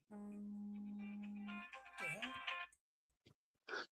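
A cell phone rings with a steady electronic tone, then a brighter warbling melody. It stops abruptly, followed by near silence and a brief burst of sound.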